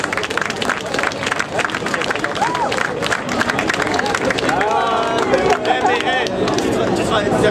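An outdoor crowd claps and chatters at a rally award ceremony, scattered clapping mixed with loud hubbub and overlapping voices throughout.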